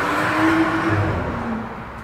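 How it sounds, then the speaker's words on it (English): A car passes steadily with a reverberant, echoing wash of engine and tire noise over a constant city hum. "occasionally a car will go past and it'll have this echoey reverb to it"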